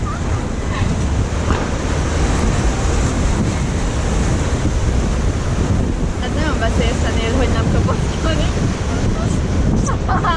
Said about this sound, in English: A good bit of wave action there.